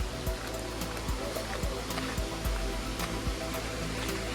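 Rushing water from a hidden hot-water waterfall in the Konkan during the monsoon, a steady broadband roar close by with faint periodic low thumps, continuous and alone without voices.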